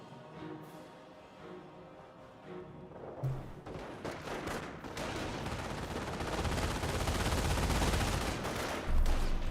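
Gunfire in the WWII strategy game Company of Heroes as a rifle squad is pinned down, with rapid machine-gun bursts and scattered shots building from sparse to dense, mid-distance and continuous.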